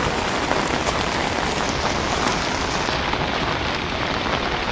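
Heavy rain pours steadily on a foggy hillside trail on the way to Machal in the Konkan, a dense, unbroken hiss up close with no voices.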